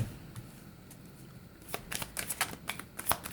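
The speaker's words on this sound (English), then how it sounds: "As I was starting to shuffle your cards here." A deck of tarot cards being shuffled by hand, quiet at first and then a run of crisp, rapid riffling snaps and slaps close up, with no talking.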